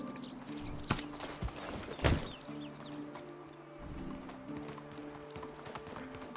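Donkey hooves clip-clop in a steady walking rhythm while riding in the medieval village-building game Medieval Dynasty, close and moderately loud, with a few sharper hoof strikes and faint ambient birdsong.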